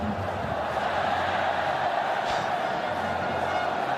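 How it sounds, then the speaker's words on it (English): Football stadium crowd at a World Cup qualifier between Jordan and Uruguay, a steady broad roar of many voices filling the whole stretch, with a brief swell near the middle. "it's got the crowd going again anyway"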